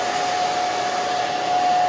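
A hair dryer blows steadily and loudly on short pixie-cut hair, a constant close whoosh with a fixed whine that holds unchanged throughout.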